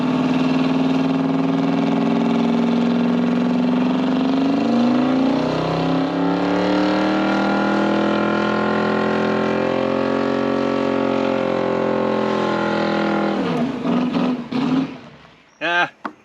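A Chevelle's engine roars loudly and steadily through a tire burnout, its pitch climbing and then holding before the revs drop away into a few sharp pops and sputters.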